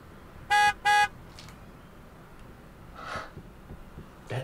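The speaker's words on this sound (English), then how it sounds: "we'll hear a car horn" A car horn sounds two short, loud honks in quick succession, followed by quiet background with faint breathing and rustling.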